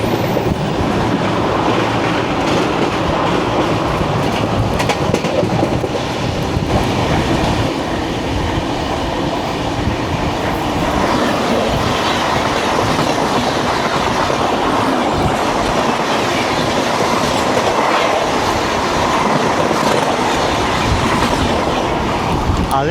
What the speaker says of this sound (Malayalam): ഇപ്പോൾ അതാണ് ഹസ്രത്ത് നിസാമുദ്ദീൻ ചെന്നൈ രാജധാനി എക്സ്പ്രസ്